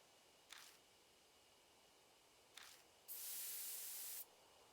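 A sustained hissing spray of drugs onto a beehive in the video game Death Mark, running about a second, preceded by two short faint hissy bursts, quiet overall.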